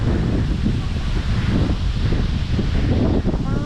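Strong wind buffets a microphone outdoors by a creek during lift-net fishing, a steady low rumbling roar that continues without a break.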